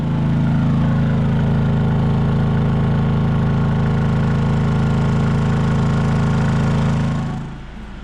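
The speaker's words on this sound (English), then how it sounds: "Let's go have a look at what the decibels are right next to the Honda inverter." A Honda inverter generator converted to run on propane drones steadily and loudly up close, a constant low engine hum that runs for about seven seconds before easing slightly lower at the end.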